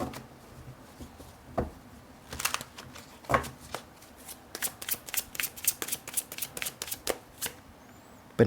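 Tarot cards are shuffled by hand in a series of soft, riffling bursts and light taps, close and fairly quiet. Some irregular pauses separate the shuffles.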